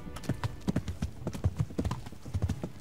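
Horse hooves galloping in the medieval video game Kingdom Come: Deliverance, a rapid, rhythmic clip-clop of repeated hoofbeats that runs steadily and close throughout, with no talk.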